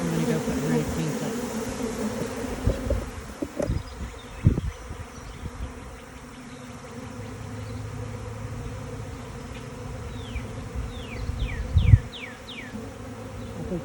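A honeybee swarm drones steadily in an outdoor spring apiary with a spruce nearby, a loud continuous buzz close by that holds throughout. A few bumps and brief bird chirps rise above it.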